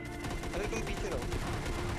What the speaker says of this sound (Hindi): अरे यार मैं दो शॉट मार चुका हूँ उसे